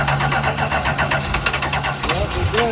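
A 1971 Dodge Charger Super Bee engine settles into a steady idle after starting, a continuous close rumble with a faint whine layered over it, while people talk nearby.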